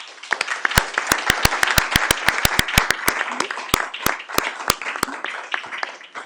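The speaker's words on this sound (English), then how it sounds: "I'd invite our audience to give our candidates a round of applause." An audience at a 2022 legislative candidate forum in Winona, Minnesota claps for the candidates in a steady round of applause, with sharp individual claps standing out near the front of the crowd.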